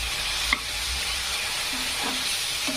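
Onion fries in a pan for egg bhurji, a steady close sizzle broken by a few scrapes of a stirring spoon and one sharp clink early on.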